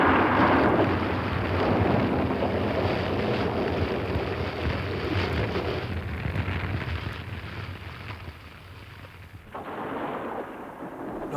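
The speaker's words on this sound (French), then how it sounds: "L'orage revient." A returning thunderstorm rumbles low and heavy through a forest setting, a sustained roll of distant thunder that fades slightly before swelling again, with no voices.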